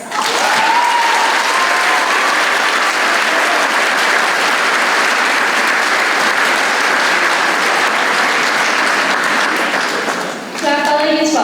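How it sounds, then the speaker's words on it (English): A graduation ceremony crowd claps for the parents, a loud, sustained wall of applause that holds evenly before tapering near the end. "Let's give a round of applause for all our parents."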